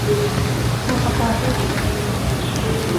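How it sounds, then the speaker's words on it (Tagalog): Heavy rain arriving during a stormy, darkening afternoon, a steady dense hiss of rainfall that stays loud and constant throughout, with voices faintly mixed underneath. "mukhang may malakas na na ulan na parating"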